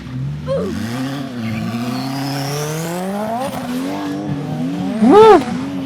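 A Honda Civic racing hard, its engine revving through rising and falling gear pitches, close and loud, ending in a sharp tire squeal near the finish.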